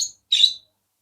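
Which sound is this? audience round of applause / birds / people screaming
birds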